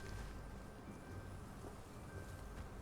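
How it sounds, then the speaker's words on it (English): Light rain falling in a countryside village in the video game Hogwarts Legacy, a soft, steady hiss of patter with faint low rumbles beneath, no voices. "I guess it's slightly raining."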